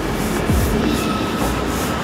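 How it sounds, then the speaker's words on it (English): Berlin M5 tram running through the city, a steady close rumble of wheels and motor with a brief rising whine, continuous and fairly loud. "Ang aming sasakyan na tram."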